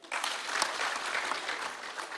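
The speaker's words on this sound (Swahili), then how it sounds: "Pigia hao makofi." Audience of NGAO officers at a gathering in Kisumu County applauding steadily, a dense wash of many hands clapping at a distance, fairly faint and continuous throughout.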